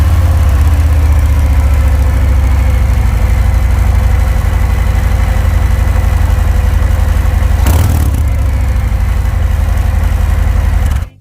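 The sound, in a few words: Harley-Davidson Fat Bob 114 V-twin engine cold start idling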